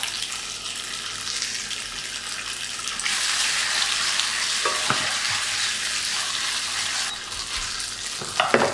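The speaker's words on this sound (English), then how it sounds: "Add a little bit of oil to stir fry noodle." Wide flat rice noodles are stir-fried in oil with black soy sauce, giving a steady close sizzle. The frying swells louder midway, with occasional scrapes and clinks from stirring and no talking.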